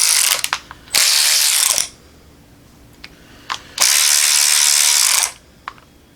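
A Matco cordless ratchet with lithium battery and LED light spins in two long bursts of dense, rapid clicking and whirring, with brief sharp clicks and pauses between them; close and loud, no talking.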